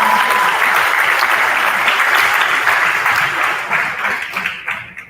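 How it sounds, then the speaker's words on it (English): A crowd of family and friends applauds top students at a school honors night, loud and steady clapping that fills the room before tapering off and fading near the end. "Let's give them a round of applause again."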